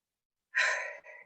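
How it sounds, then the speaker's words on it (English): A single deep breath is pushed out slowly and audibly during a guided breathing exercise, a long airy exhale that tapers off with a brief second puff at the end, close and alone. "One more deep breath."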